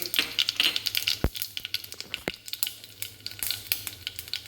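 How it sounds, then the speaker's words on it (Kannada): Mustard seeds crackling and popping in hot oil in a frying pan while tempering for rava idli: a steady close sizzle broken by sharp, irregular pops, with no talking. "ಎಣ್ಣೆ ಕಾಯಲಿದು ಕಾದಿದೆ ಸಾಸಿವೆ ಹಣ್ಣು ಹಾಕ್ತಾಯಿದ್ದೀನಿ ಇದಕ್ಕೆ"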